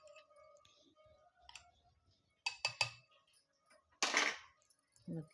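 Peanut chutney pounded in a stone mortar and pestle: sparse, irregular knocks and clinks, a few sharp strikes bunched together, then quieter gaps and faint background sounds.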